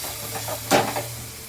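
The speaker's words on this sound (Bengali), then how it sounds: "এবার এটাকে নাড়তেই হবে, নাড়তেই হবে।" Food frying in a pan is stirred, giving a soft steady sizzle with one brief louder scrape and hiss in the middle, heard close and alone.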